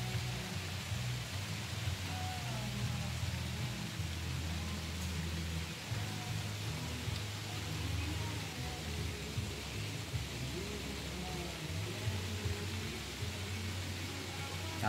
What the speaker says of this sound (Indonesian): Nih, hujan kan?